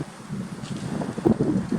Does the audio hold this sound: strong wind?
yes